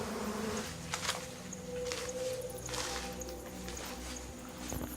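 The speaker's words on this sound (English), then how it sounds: "there are poisonous wasps as well that have made their nests all over this cave" Wasps buzz inside a cave, a continuous droning hum with faint rising and falling whines over a low background rumble, fairly quiet throughout.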